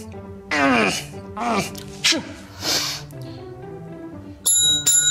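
A bright doorbell rings twice near the end, sharp metallic tones following vocal groans and a sneeze-like burst.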